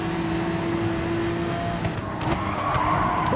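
Race cars in Gran Turismo Sport skid and spin, including a McLaren, as a steady engine drone runs under sharp tire squeals and a few brief impact bursts, close and loud with no talking.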